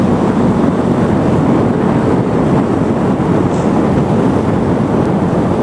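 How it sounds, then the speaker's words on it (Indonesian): Steady wind roars across the microphone while motorcycle riding, a loud, constant rushing noise with no pauses and no voices. "udah mulai berangin"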